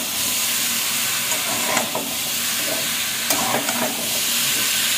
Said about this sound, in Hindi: एबे आम ताको टिके फ्राई करिबा